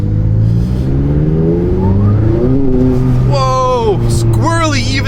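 A 2018 McLaren 570S Spider accelerates hard on turbo boost, its engine note climbing steeply through revs with a sharp gear change near the end, loud and close from inside the car.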